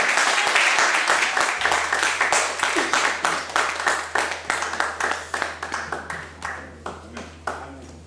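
A church congregation applauds in a burst of loud, close clapping that starts dense and thins into scattered claps, with a low steady hum underneath.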